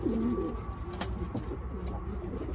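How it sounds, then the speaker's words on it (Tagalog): Pigeons coo at a loft in Katy, Texas, with soft, repeated throaty coos close by and a steady murmur of background noise, plus a few faint brief chirps. "Tingnan yung mga kalapate."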